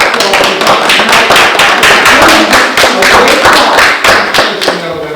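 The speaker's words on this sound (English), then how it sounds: "I would like to applaud them tonight" Vigorous applause at a town council meeting, many people clapping hard and fast in a loud, sustained burst that tapers slightly near the end.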